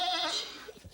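Fainting goats bleating, a loud, wavering cry up close that fades into quieter rustling and shuffling.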